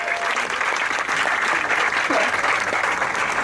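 An audience at a school science show claps for a volunteer called up on stage, a short burst of dense, close applause with a few whoops and voices mixed in.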